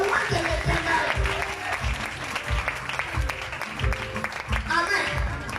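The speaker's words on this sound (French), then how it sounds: "Acclamez le prophète. Acclamez le Seigneur." A church congregation claps steadily at a French-language worship service, the applause dense and sustained throughout with voices mixed in.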